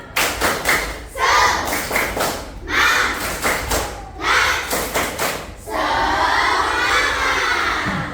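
Primary school children in an Indonesian classroom perform a rhythmic spirit clap, clapping in patterned bursts with shouted chants and then breaking into sustained loud cheering.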